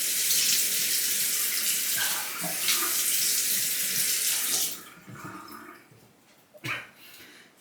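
Tap water runs loudly into a sink for rinsing after a shave with a Personna blade, a strong steady gush for several seconds that then cuts off to faint trickles and a brief splash.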